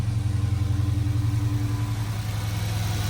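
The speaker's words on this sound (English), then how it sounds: "Big ZL1 with the Corsa intake." Chevrolet Camaro ZL1 with a Corsa intake idling close by, a deep, even, throbbing rumble with a steady low pulse and no talking.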